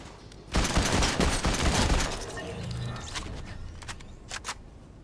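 A bot fires a gun in Fortnite: a loud burst of rapid shots followed by a quieter stretch of scattered shots and game sounds, with no talking.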